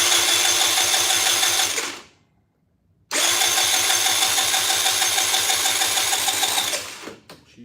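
A scooter engine fires up after a full engine swap, running loud and steady with a fast rhythmic putter, cuts out for about a second, then restarts and runs again before dropping off at the end.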